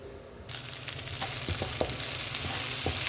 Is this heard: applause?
no